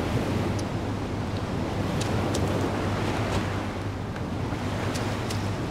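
Waves washing onto the shore in the video game DayZ, a steady rushing surf with wind noise, continuous and fairly loud, no voices.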